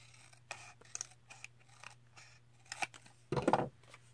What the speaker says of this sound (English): So I just went ahead and cut some off the bottom.